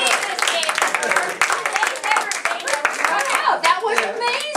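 A small workshop audience claps for improv players, brisk close-up hand clapping from a handful of people mixed with chatter and laughing voices.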